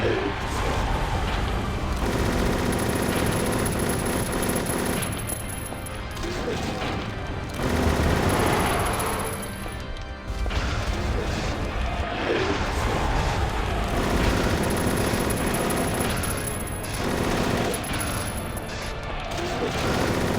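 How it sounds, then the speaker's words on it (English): Sustained machine gun fire from an infinite machine gun in Silent Hill 3, loud rapid bursts with crashing impacts, broken by a few brief pauses across the stretch, with no voices. "we now have the infinite machine gun"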